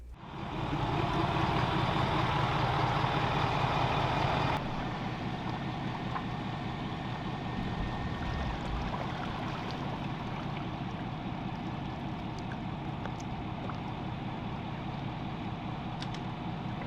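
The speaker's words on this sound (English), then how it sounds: "We're just cycling the motor through, doing our little final checks on it" A Torqeedo Travel S electric outboard motor runs steadily throughout, a continuous near whir and hum that drops slightly in level partway through and then holds even, with no talk.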